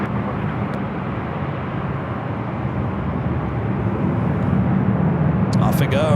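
A jet airliner takes off from runway 24 left at LAX, a loud steady roar that builds slightly toward the end and runs on continuously, with brief radio-like chatter heard near the close.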